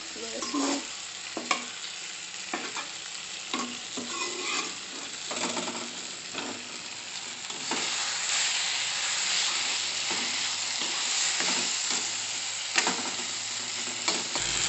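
Potatoes fry in hot oil in a pan for an egg, potato and tomato curry, with a steady close sizzle and repeated rhythmic scrapes and knocks of a spatula stirring them.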